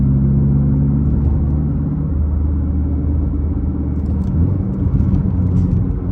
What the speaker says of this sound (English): there's no better feeling than to drive a GTR